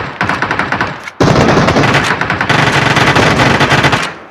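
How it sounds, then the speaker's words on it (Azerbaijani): Rapid automatic gunfire from PUBG Mobile rattles in loud, dense bursts, with a short pause after the first second and then nearly continuous shots. "Elə bilsən 100 metrə durub mənə atır güllə."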